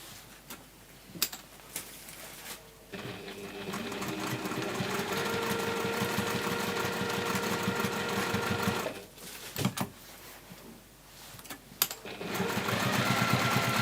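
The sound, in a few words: sewing machine top stitching a fabric bag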